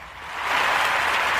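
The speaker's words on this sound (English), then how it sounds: "I'm giving you a round of applause." A short burst of clapping, a round of applause, swelling quickly and holding steady for barely more than a second.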